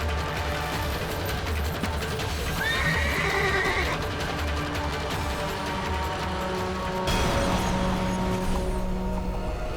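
An agitated horse in a historical TV drama neighs loudly and whinnies repeatedly, with hooves clopping and stamping on hard ground and a busy dramatic soundtrack beneath.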